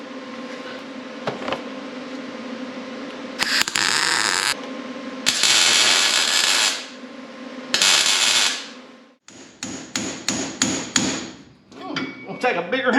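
Repeated metal hammer strikes on a Camaro's front-end steering parts ring out, first in scattered heavy blows, then a quick run of sharp clanks, with mechanical rattling in between.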